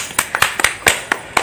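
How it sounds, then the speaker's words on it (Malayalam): Children give a round of sparse claps for a stone-collecting game player, about eight crisp, separate hand claps in an irregular rhythm, near and clear with short pauses between. "എല്ലാവരും നമുക്ക് ഒരു ക്ലാപ്പ് കൊടുക്കാം അല്ലെ"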